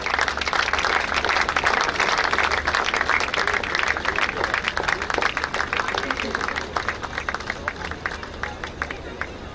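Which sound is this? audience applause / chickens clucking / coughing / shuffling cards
audience applause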